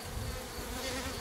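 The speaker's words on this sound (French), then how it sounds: "Ah, il y a des abeilles." Hybrid honeybees, half black and half Buckfast, buzz at an apiary hive in a dense, steady hum that fills the short moment, close and continuous.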